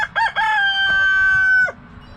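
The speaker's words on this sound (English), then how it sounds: "Oh, and my rooster." A pet rooster crows once, a loud close harmonic call held for about a second and a half before dropping off, with no talk over it.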